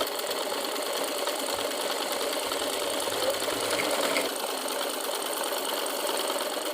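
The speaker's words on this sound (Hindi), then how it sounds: "और फिर यहाँ इतना ही नीचे तक सिलाई लगाएंगे" A sewing machine runs steadily, stitching a child's frock, its dense motor whir and needle chatter holding a continuous, even rhythm throughout with a slight swell near the middle.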